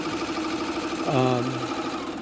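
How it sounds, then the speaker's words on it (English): A Juki Tajima 8-needle embroidery machine stitching produces a steady mechanical whir and clatter. Midway, a brief rising motor tone sounds as it prepares for the next thread. "Now it's getting ready to go to thread number 2, and it'll do the jump stitches."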